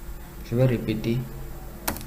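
A single sharp keypress of the Enter key on a computer keyboard clicks near the end, following a short spoken phrase in French.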